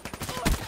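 Shotgun fire in Call of Duty: Black Ops 3, a quick string of close, punchy blasts within a fraction of a second, ending in one louder, heavier boom.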